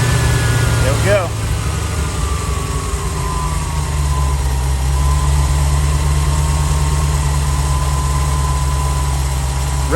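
A 1989 Corvette C4 engine idles steadily after a fuel pump replacement, a loud, continuous low rumble running the whole time with a faint whine above it and brief voices early on.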